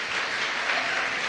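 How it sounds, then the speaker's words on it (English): Audience applause at a church service, a steady wash of many hands clapping together, fairly close and even in level, with no talking over it. "Everyone give Shafiq a round of applause"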